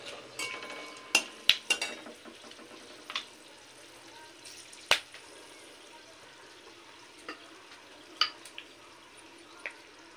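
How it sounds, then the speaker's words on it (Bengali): Cinnamon, cardamom and cloves toast in hot oil as a tempering, giving a soft, faint crackle with scattered clicks and light metallic stirring taps against the pan. "এবার সুন্দর গন্ধ আসা পর্যন্ত ফোড়নটা একটু টেলে নেব।"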